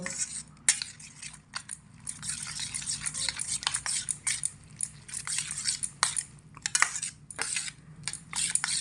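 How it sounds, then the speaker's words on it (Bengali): A spoon beats eggs with flour and other ingredients in a bowl, quick clinking and scraping strokes repeating close up in uneven bursts. "ডিমের মধ্যে সমস্ত উপকরণ দিয়ে এইভাবে একটা চামচ দিয়ে দু মিনিট সময় মতো ফাটিয়ে নেব"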